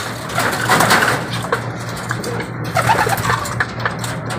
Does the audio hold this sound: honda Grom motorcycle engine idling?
no